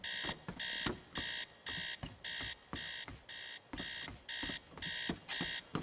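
An alarm clock in the Teardown video game rings in a steady pulsing pattern, about a dozen loud, bright electronic bursts with short gaps between them, alone without talk.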